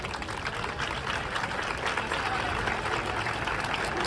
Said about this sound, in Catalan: Un aplaudiment per a elles.